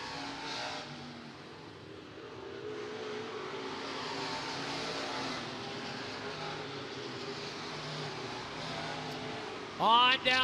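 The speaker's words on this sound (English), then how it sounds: "Brandon Allers to the inside as they race down into turn number 3 and 4" SportMod race cars roar around the dirt oval at Clay County Fair Speedway, a steady, somewhat distant engine drone that swells and fades as the field passes, with an announcer calling the race over it.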